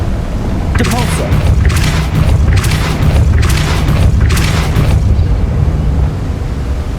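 Depulso force spells cast in the Hogwarts Legacy video game burst out as about five loud, whooshing blasts in quick succession over a constant low rumble of game ambience.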